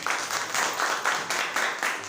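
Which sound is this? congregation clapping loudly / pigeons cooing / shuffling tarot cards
congregation clapping loudly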